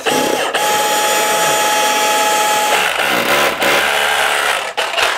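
Power drill grinding into a wall at close range, a loud continuous motor whine with shifting pitch as the bit bites, with brief dips and mechanical rattling near the end.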